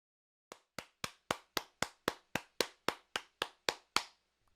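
Hands clap about fourteen times in a steady, evenly spaced rhythm inside a room, each clap sharp and distinct, with silence between them and no voices.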